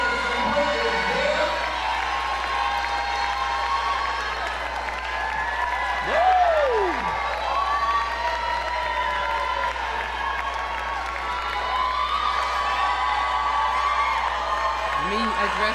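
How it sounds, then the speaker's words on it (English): Audience at a Bermuda Idol singing competition applauding and cheering contestants on stage, a steady wash of clapping and crowd noise with scattered whoops and shouts throughout, voices mingling in the background. "Can we give them a round of applause?"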